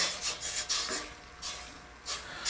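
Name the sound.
stirring apple cider vinegar and sugar in a pan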